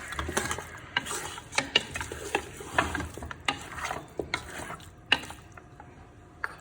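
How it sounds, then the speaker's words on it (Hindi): Irregular metallic scraping and clattering of a spatula against a pan as mutton is stirred and lightly fried, moderately close and fairly quiet. "हल्का सा इसको हम इस तरह भून लेंगे।"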